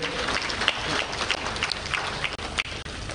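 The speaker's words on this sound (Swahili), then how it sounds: "naomba tuwapigie makofi mengi sana board ya TanTrade" An audience at the opening of the 46th Sabasaba international trade fair in Tanzania applauds the TanTrade board, a dense, steady patter of many hands clapping at once, loud and continuous.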